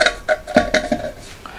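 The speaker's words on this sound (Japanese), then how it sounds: "この専用のお鍋クッカーですね、これを乗せます。" Primus Eta Spider cooker pot set onto the stove, a run of sharp metallic clanks and taps in quick uneven succession, close and clear with no talking.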